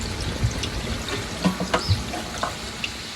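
Water poured into a cooking pot of Filipino pork afritada with ketchup added, a soft broadband splash and trickle with a few small clinks and knocks, close and fairly quiet, no talk.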